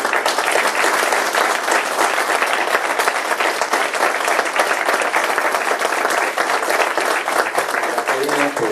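A large academic audience applauds warmly and steadily at a ceremony honouring a scholar, dense sustained clapping that stays loud throughout.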